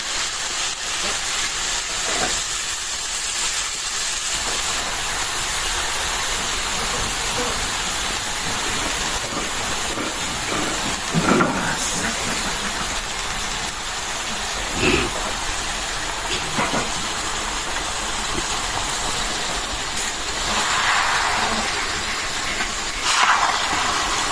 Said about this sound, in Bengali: এখন এই যে সবজিটা দিয়ে দিই